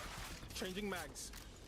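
Magazine swap during a reload in the sci-fi shooter Star Rupture, a quick mechanical click and clatter over game ambience, with a voice speaking briefly alongside.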